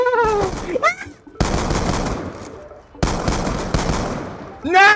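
Automatic gunfire from a gun in Black Ops 2's Gun Game mode rattles out in two long, loud, rapid bursts, broken by brief pauses, with excited shouting voices at the start and end.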